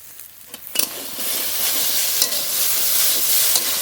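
Okra and pre-fried pholui fish sizzle steadily in a pan while being stirred, with a few louder clatters of the spatula early on, then a dense, continuous frying hiss up close.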